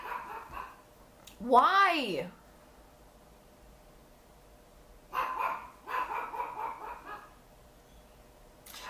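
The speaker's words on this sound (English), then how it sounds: "Why is my dog barking?" A pet dog barks and gives a rising, whining yelp, joining in with other dogs outside, in loud bursts at the start and again in the second half while a person talks.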